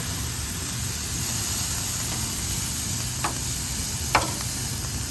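Portobello mushrooms sizzle on a grill as a constant moderate hiss, with a couple of faint scrapes or pops and no talking.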